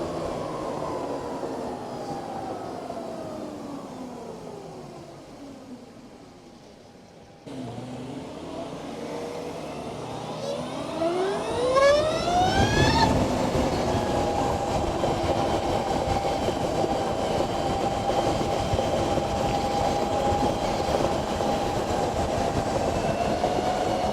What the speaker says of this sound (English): it is quite an impressive, quite an interesting sound that this bike puts out